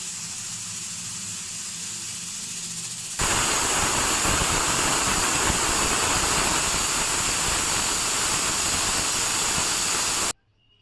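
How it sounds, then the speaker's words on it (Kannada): A pressure cooker cooking spinach sambar lets out a steady hiss, which then jumps to a loud, continuous, close rushing whistle of steam that holds for several seconds and cuts off abruptly. "ಈ ಹಂತಕ್ಕೆ 4 ವಿಜಿಲ್ ಆಲ್ರೆಡಿ ಬಂದಿದೆ"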